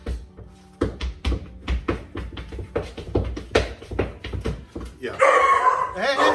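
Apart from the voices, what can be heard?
dog barking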